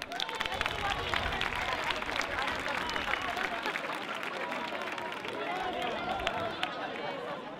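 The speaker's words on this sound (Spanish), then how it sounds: "quiero aprovechar este momento para pedir un fuerte aplauso por lo bien que lo han hecho" Strong audience applause at a festival proclamation of the majas, steady dense clapping with crowd murmur and some voices underneath, moderately distant.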